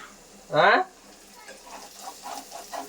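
Bitter gourd pieces cooking in a pan give a sharp burst of sizzle and stirring, then quieter intermittent frying crackles follow close by.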